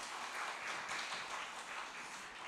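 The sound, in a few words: congregation applause welcoming the pastor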